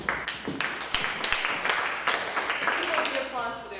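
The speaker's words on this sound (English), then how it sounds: "Applause for the art" Audience applause greets an art talk introduction, a dense wash of hand claps with a few sharper individual claps standing out, steady and moderately loud throughout.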